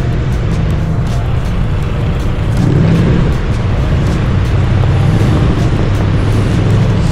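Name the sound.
cars warming up engines in hotel parking lot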